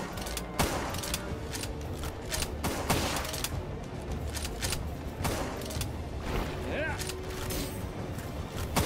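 Gunfire in the video game Palworld: repeated loud shots in irregular bursts with mechanical clatter, over a busy game soundscape.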